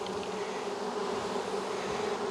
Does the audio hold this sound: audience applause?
no